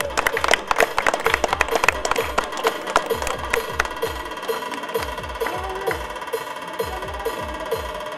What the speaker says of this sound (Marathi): सर्वांनी टाळ्या वाजवायच्यात